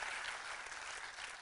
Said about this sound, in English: One more time, please give them a big round of applause for being here with us today.